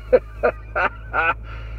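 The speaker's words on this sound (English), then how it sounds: "am I dreaming or I just heard a mud duck out there?" A mud duck honks outside before dawn, giving four short, fairly loud calls at an uneven pace, alone over a low steady hum.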